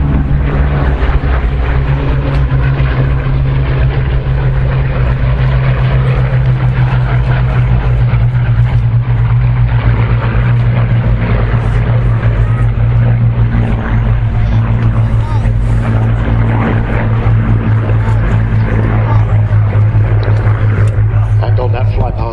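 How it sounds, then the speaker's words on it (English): A loud, steady propeller-engine drone of Spitfire aircraft flying past at an air display at Duxford fills the whole stretch, with a voice talking underneath the continuous roar. "on that fly past there you can make a good comparison of the silhouettes of these wonderful aeroplanes"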